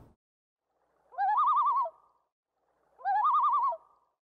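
A common loon gives two clear, wavering calls, each about a second long, separated by silence and heard alone against a quiet background.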